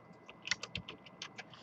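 Quick, irregular keystrokes on a computer keyboard enter numbers into a spreadsheet, a short burst of close, crisp clicks with no voice over them.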